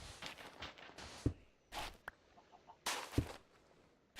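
Chickens in the modded Minecraft game RLCraft cluck in short, scattered bursts, with a few brief footstep-like taps between them, fairly close and moderately loud, and no talk.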